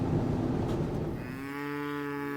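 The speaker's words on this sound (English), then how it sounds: "I have made it out here to where the cattle are" Cattle out on a farm pasture, with one long, loud, close moo rising out of a brief burst of rough noise and ringing on for over a second.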